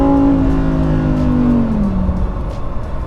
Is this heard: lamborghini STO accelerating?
yes